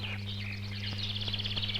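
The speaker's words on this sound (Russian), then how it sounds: "по дорожкам записаны разные пения разных птиц" Songbird calls and chirps played back from a vinyl record of recorded bird songs, a series of quick high twittering phrases over a steady low mains hum, with a few faint clicks.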